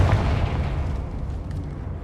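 A Confringo blasting spell from Hogwarts Legacy goes off as a deep, rumbling explosion that fills the moment, loud and close, then decays slowly, with no talking over it.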